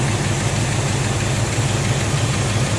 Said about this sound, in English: Okay, we got the engine running now, so moment of truth.